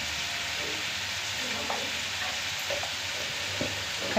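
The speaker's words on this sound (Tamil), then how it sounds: "நல்லா வதக்கி விட்டுக்கலாம்." Spices with dried chilli powder and turmeric sauté in a pan, a continuous close frying sizzle with occasional light stirring knocks, no one talking.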